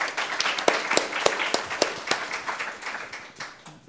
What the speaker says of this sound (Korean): 박수로 들어보도록 하겠습니다.